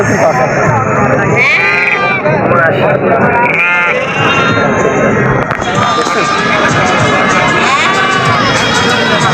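Dairy goats, including Totapuri goats with kids, and sheep bleat in wavering cries at a livestock market in Natore, a couple standing out clearly over the constant murmur of a busy crowd talking nearby.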